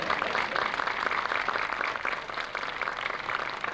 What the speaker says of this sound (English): can I hear some applause for that?